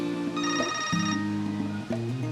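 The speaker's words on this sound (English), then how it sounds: "we got a phone call" A telephone rings in a home during a house makeover, a bright electronic ring in two bursts over a steady musical background.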